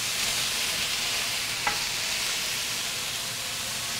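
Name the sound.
stirring vegetables with Chinese five-spice in pan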